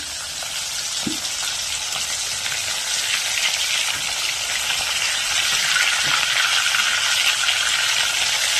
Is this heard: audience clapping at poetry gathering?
no